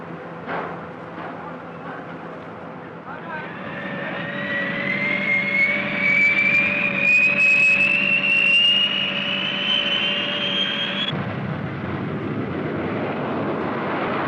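Jet bombers, B-47s and B-52s, fly past with a rising whining roar that swells and holds steady for several seconds over a low rumble, loud and sustained, then the tone cuts away into broad noise.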